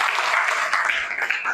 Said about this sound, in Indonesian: Boleh kita beri tepuk tangan untuk kita semua di sini.